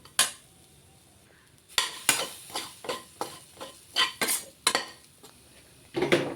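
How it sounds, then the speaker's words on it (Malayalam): A utensil repeatedly scrapes and knocks against a pan while grated coconut roasts with curry leaves and tamarind, about a dozen close, distinct clanking strokes in an uneven rhythm over a faint sizzle. "എന്നിട്ട് നമുക്കിത് ബ്രൗൺ കളർ ആവുന്നത് വരെ ഒന്ന് ഇളക്കിയെടുക്കാം."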